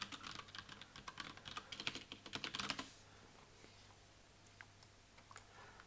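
Quick bursts of typing on a computer keyboard, rapid close clicks for about three seconds, then a few isolated taps over quiet room noise.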